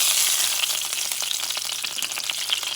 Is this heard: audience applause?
no